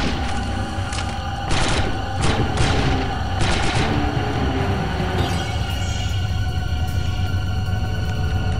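Volleys of projectile-weapon gunfire in the Star Wars Republic Commando game, a loud burst of rapid shots in the first few seconds over a steady roar of combat noise that carries on to the end.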